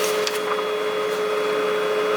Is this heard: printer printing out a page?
yes